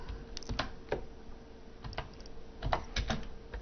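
Someone types on a computer keyboard, producing a quick, uneven run of soft, close key clicks.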